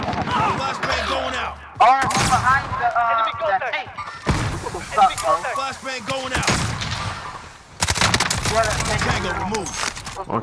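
A flashbang grenade goes off in the Call of Duty Modern Warfare shooter, with several sharp, loud broadband bursts among dense gunfire and game noise while voices talk throughout.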